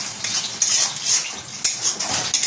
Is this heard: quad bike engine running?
no